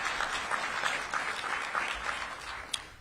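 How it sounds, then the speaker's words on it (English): Applause from a public audience at a mayoral event in the District of Columbia, a steady broadband patter of many hands at moderate level throughout, with no talk over it. "Let's give them a round of applause for all their efforts as well"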